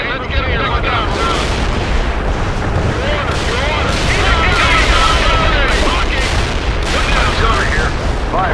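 Artillery barrages thunder in the video game World in Conflict, a dense, continuous rumble of booming shells and rapid gunfire layered together, loud and close, with radio voices over the din.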